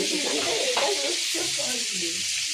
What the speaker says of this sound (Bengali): আলু পটল ভাজা হচ্ছে